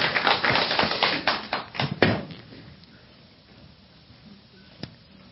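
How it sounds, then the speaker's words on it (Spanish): Church congregation claps in a brief burst of applause lasting about two seconds, with dense overlapping claps that thin out and fade, followed by a quiet room and one isolated tap. "Démosles un aplauso."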